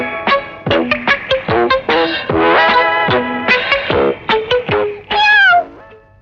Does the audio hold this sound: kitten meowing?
yes